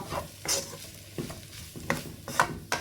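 Fish podimas masala being stirred in a pan, a spoon scraping and clattering in repeated strokes over a soft sizzle of frying, close up with no voices.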